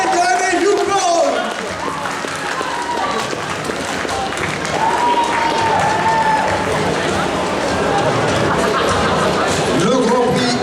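A crowd at a convention's costume contest award ceremony applauds and cheers loudly and continuously for the winners, with voices and whoops mixed into the steady clapping.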